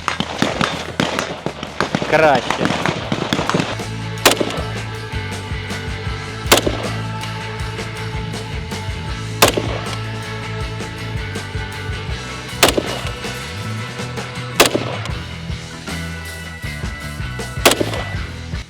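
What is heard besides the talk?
carbine rifle gunshots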